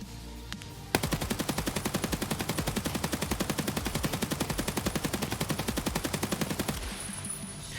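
Sustained automatic gunfire sprays from a weapon in the video game Escape from Tarkov, a long rapid rhythmic burst of loud close shots lasting several seconds before stopping abruptly.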